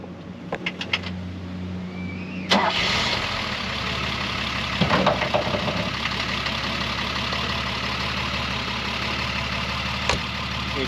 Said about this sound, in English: get this car started.